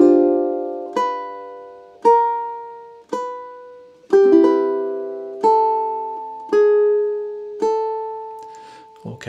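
Solo ukulele plays the third and fourth measures of a theme from Zelda, with about nine bright plucked notes and chords struck in a steady rhythm, each ringing and fading before the next, close up with no talking.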